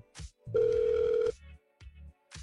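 A telephone rings during a call placed from a radio studio, one steady electronic ring tone held for close to a second between short pauses.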